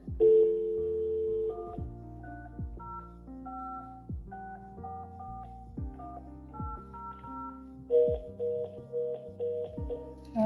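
Telephone dialing tones sound in a courtroom, a sequence of distinct beeping tones at an irregular pace, clear and close, with faint background noise and no talking.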